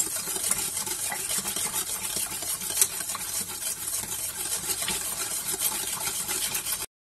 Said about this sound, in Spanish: Vamos a disolver muy bien para que no nos quede ningún grumo.